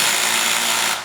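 A power drill whirs steadily as it fastens the handlebars on an AWD ebike. The buzz is loud, close and continuous, and it winds down at the end.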